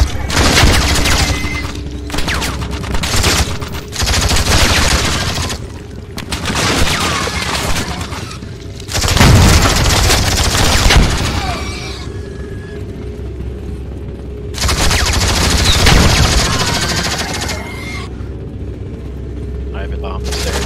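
Gunfire in Squad with the Troopers mod comes in repeated loud bursts of rapid mechanical shots separated by short gaps, with a deep thump among them and people talking throughout.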